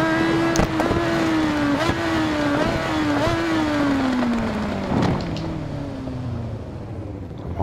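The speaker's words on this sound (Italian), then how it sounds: "la moto apre, la moto spalanca, la moto è in quinta" A 2004 Yamaha R1 motorcycle engine in the racing video game Ride 4 revs hard and shifts up through the gears, a loud, continuous whine that climbs and drops with each gear change and a few sharp pops.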